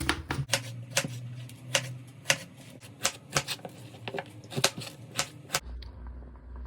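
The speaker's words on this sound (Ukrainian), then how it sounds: "нарізаємо кубиками нашу картошечку." Rapid knife chops dicing potatoes on a cutting board, a steady run of sharp, close taps with uneven spacing, then it stops near the end.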